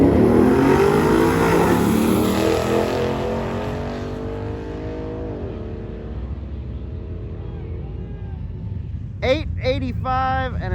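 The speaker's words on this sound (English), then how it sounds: "we're getting started off with the BMW that we talked to yesterday alongside the Mustang over there in the far lane" A BMW and a Mustang launch side by side down a drag strip at a race week event, engines roaring loud and close, then fading into the distance before a voice talks near the end.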